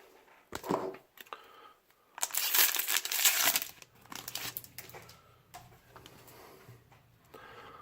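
Magic: The Gathering Rivals of Ixalan booster packs torn open by hand, with crisp foil crinkling and tearing in a few bursts, loudest in the middle, then softer rustling of cards being handled up close.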